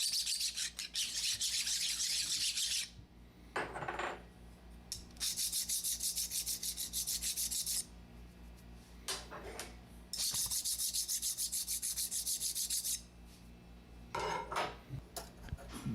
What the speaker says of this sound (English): Use a file on the top wheel and the gear hubs to ensure that they are flat before putting it back together